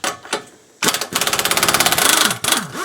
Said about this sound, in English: you can see the compressor's already kicked on